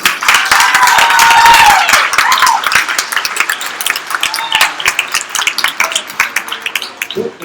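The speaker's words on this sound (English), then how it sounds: "Big round of applause." Crowd at an Astronomy on Tap science talk in Lansing applauds a speaker coming to the stage: loud, dense clapping with a whoop early, then thinning into scattered individual claps that fade out.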